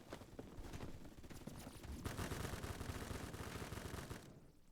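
Rapid gunfire from an M21 tactical rifle in the Phantom Forces video game, a dense run of quick shots that grows louder midway before cutting off, fairly faint overall.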